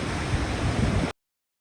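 A waterfall at Tanygrisau on a freezing, snowy day gives a steady, loud rush of falling water, constant for about a second before cutting off abruptly to silence.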